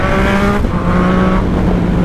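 A Yamaha MT-09 motorcycle accelerating in traffic, a loud, close engine roar with a rising, steady tone through the short burst, alone without talk.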